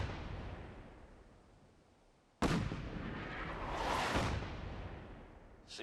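Artillery barrage in the Fallout 4 video game, several guns firing together: a sharp close blast breaks through quiet background rumble, followed by a sustained roaring wash and a fainter later burst.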